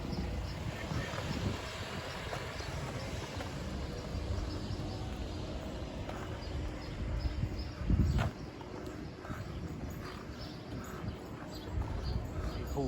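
Horses at a horse ranch in Alcudia, Mallorca, heard outdoors in the evening as steady low hoof and movement noise under wind, with a brief louder thud near the middle.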